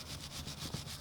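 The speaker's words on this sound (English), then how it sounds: "So I'm just brushing everything off since I'm going to be installing the new shims" Brush scrubbing brake parts on a 2019 Lexus RX350 during a rear pad and rotor job, a quick, faint, steady rubbing swish lasting about a second.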